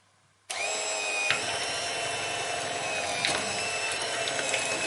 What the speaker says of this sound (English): Now let's get our mixer here.